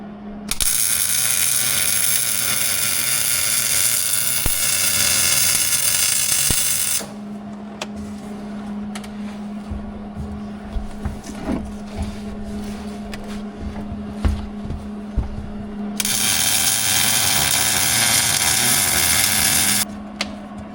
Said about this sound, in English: we'll clean that up on the 1-inch belt sander